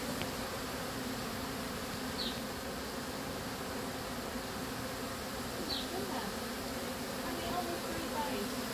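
Honey bees buzz steadily around a relocated hive full of honeycomb, a dense insect drone running throughout with a couple of faint high chirps.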